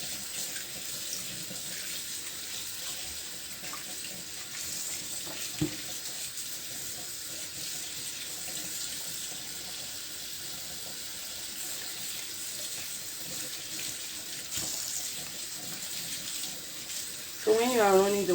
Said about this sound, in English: you are running the water, just be fast because you don't want your chicken to sit in the water